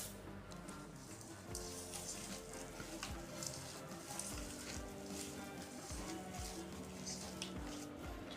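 Spiced potato masala is stirred with a spoon for Gujarati batata vada, a soft, continuous wet squishing and scraping with light sizzle-like hiss, fairly quiet and without talk.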